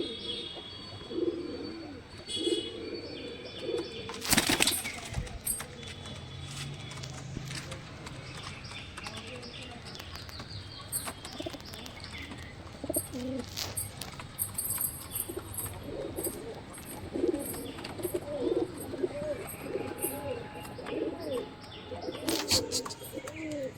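Pigeons coo softly at a loft in Shyamnagar, with bursts of wing flapping and faint chirps over a quiet outdoor background.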